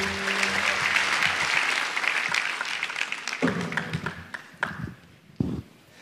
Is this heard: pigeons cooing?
no